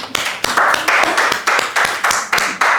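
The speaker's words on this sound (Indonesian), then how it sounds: "tepuk tangan" A classroom group claps briefly during a microteaching session, with a loose, uneven patter of hands heard close by and a few sharper individual claps standing out.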